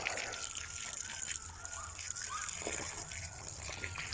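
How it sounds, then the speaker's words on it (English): Water pours and splashes onto the soil around a newly planted tree, a steady gushing wash with scattered sloshing, moderately close and fairly quiet. "Just give it a good dose of water."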